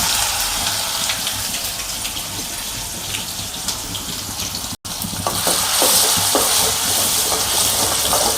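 Garlic dropped into hot oil with cumin seeds sizzles in a pan for Marathi home cooking, a steady loud hissing crackle with small pops throughout, briefly cut near the middle and then slightly brighter.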